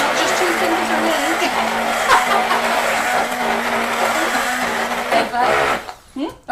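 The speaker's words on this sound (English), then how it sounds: "I can't really hear you very well over the big blender." A big blender whirs steadily while mixing black buttercream, a loud continuous motor drone with a shifting pitch that runs the whole time, dropping out briefly near the end.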